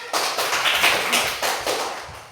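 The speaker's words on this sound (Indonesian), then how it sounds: "berikan tepuk tangan buat teman-teman kelompok 1 yang sudah mengerjakan ya" A class of students claps together for their classmates in group 1, producing a dense, steady wash of many hands that lasts throughout and rises in a few slightly louder surges.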